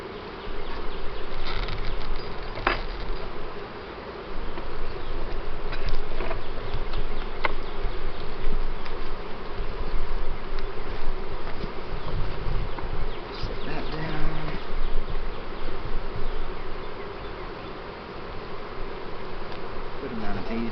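A dense, continuous hum of honeybees buzzing up close on hive frames during a hive split, with a few faint handling knocks.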